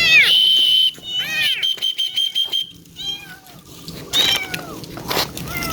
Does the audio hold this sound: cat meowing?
yes